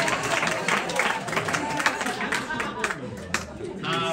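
A comedy club audience at Comedy Embassy applauds the comedian's mom and dad, giving a lively burst of clapping mixed with crowd hubbub, while a voice talks over it throughout.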